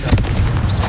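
A Confringo blasting spell detonates in Hogwarts Legacy, a dense, booming burst of low rumble with crackling debris filling the whole moment, loud and close with no voices.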